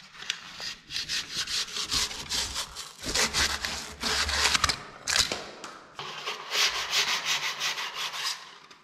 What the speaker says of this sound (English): I need to brush things or sand it somehow or remove this so I can paint this